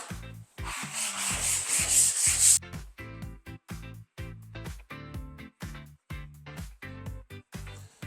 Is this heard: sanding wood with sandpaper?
yes